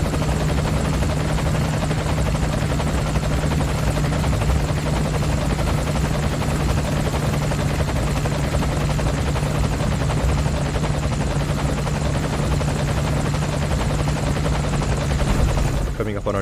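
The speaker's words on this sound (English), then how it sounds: "you can choose to look out either the left or right side of the aircraft" A helicopter's steady, loud rotor and engine roar fills the cabin throughout a flight in the video game Metal Gear Solid 5, continuous and close.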